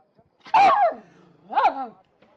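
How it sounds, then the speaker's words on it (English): A dog barks twice, close and clear, with a brief gap between the two sharp yelps and near silence around them. "I think this might be Spot the Wonder Dog"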